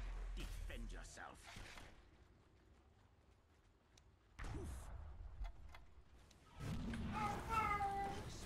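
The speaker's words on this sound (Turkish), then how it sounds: "Lan kedi inleme" A cat meows in a few short, strained bursts set between quieter stretches, with a voice talking over parts of it.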